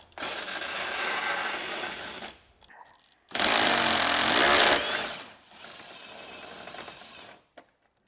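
A 10 mm bolt being removed from the front fascia seam of a 2021 Jeep Grand Cherokee, near the fender: bursts of power-tool whirring, the loudest in the middle, with short pauses between them.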